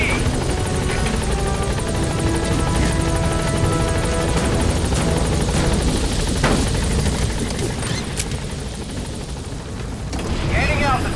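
Rotor thump and engine roar of the P-Quad helicopter in Metal Gear Solid V, loud and continuous, mixed with game sounds and a radio voice speaking over it.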